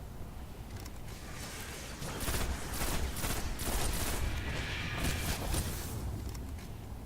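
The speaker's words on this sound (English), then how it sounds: "So I'm really just shooting acolytes and thrall." Gunfire rings out in the Destiny video game during the Crota's End raid as players shoot acolytes and thrall. Sustained loud fusillades of rapid shots build over a dense, noisy game soundscape, with no speech.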